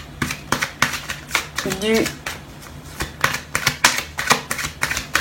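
Tarot cards shuffled and drawn from the deck give a run of quick, close riffling snaps and flicks, repeating steadily with a voice speaking in between.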